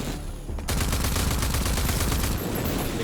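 Rapid automatic gunfire in the video game Wasteland, a dense sustained burst of repeated shots after a brief quieter lead-in, loud and close with no voices over it.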